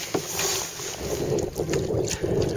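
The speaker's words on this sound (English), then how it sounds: "Wind is blowing directly from the north across the Chesapeake Bay." Steady north wind gusting across the Chesapeake Bay during sailing practice, a continuous broadband rush with wind buffeting the microphone over the churn of water against a small boat's hull.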